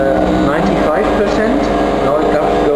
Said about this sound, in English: That's now vacuum being applied.